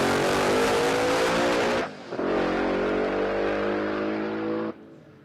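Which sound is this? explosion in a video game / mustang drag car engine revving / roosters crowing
mustang drag car engine revving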